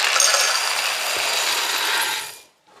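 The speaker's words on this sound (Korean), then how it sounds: "먼저 이거를 이제 믹서기에 살짝만 갈아주세요" A blender coarsely grinds doenjang soybean paste, a loud bright whirring hiss running steadily for about two seconds before cutting off abruptly into silence.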